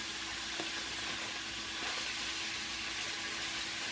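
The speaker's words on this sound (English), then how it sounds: "I'm gonna take these onions and the garlic and throw it in there" Chopped onions and garlic fry in a hot pan, producing a constant bright sizzle at moderate level, with a couple of faint taps early on.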